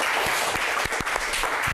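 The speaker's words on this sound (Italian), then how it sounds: "Applauso." Studio audience at an Italian television football talk show applauding, a dense, even burst of clapping with a few sharper claps, loud and continuous before cutting off abruptly.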